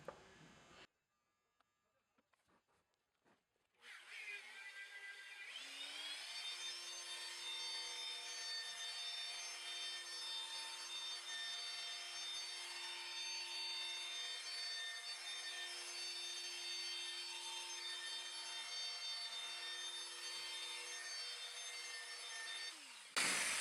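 Rotary polisher working V38 polish into a car headlight, a steady close whirring hum that starts after a few quiet seconds and holds evenly to the end.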